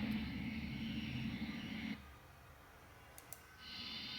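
The 2010 Hess toy jet plane's dive effect plays a loud, close electronic jet whine that cuts out after about two seconds, followed by a couple of faint clicks before the roar resumes.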